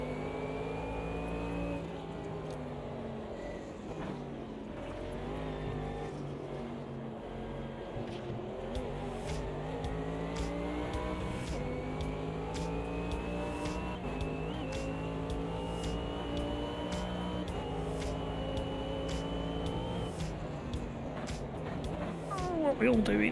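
Race car engines roar through the opening lap of an Automobilista 2 online race, a sustained droning whine that rises and shifts in pitch as the cars accelerate, with someone talking over it throughout.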